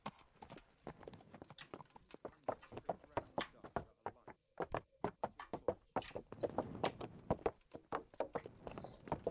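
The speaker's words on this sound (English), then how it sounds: "Yep, that's Sir Hans's horse" Video game horse hooves clip-clop steadily on a hard surface, a rapid irregular rhythm of knocks, fairly quiet and close, with faint background noise.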